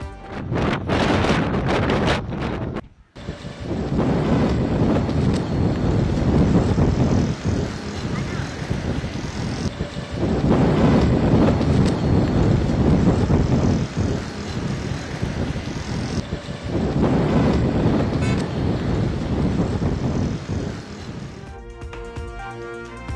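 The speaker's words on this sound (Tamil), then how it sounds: "பயங்கர சத்தத்துடன் சுழன்றடித்த தரைக்காற்று" Strong, gusty ground wind buffets the microphone along Marina beach in Chennai, a loud continuous roar surging in waves with brief lulls.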